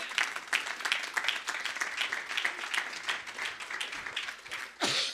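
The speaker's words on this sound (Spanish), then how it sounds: "Un aplauso al Señor." A church congregation applauding in a Spanish-language service, a dense patter of many hands clapping at moderate level for several seconds, ending with a brief voice.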